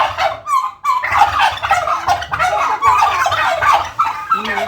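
Bronze turkeys gobble in repeated loud, warbling bursts that fill the whole stretch, close by and overlapping, with no talk over them.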